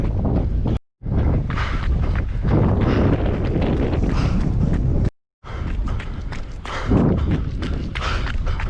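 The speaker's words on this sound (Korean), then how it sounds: "이제부터는 정면에서 바람이 붑니다" A strong headwind roars across the microphone of a runner on an outdoor run. The loud, continuous buffeting drops out briefly twice, and dull footfall thumps sound beneath it. No one speaks.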